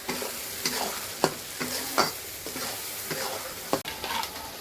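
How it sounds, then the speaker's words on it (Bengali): Cumin and coriander powder masala with turmeric fried and stirred in a pan for a chicken curry, a steady close sizzle broken by repeated spoon scrapes and taps. "জিরা পাউডার, ধনিয়া পাউডার, এগুলো আমি ভালো করে কষাই দিব।"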